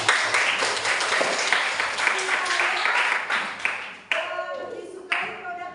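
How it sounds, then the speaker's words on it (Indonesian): A group applauds Safi with a burst of dense clapping that carries for several seconds, then breaks off as a voice starts talking over the last few claps. "Iya, tepuk tangan dulu untuk Safi."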